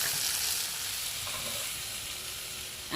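Butter chicken masala sizzles steadily in a pan as it is stirred, a close, continuous frying hiss with faint scraping of the spoon and no talk.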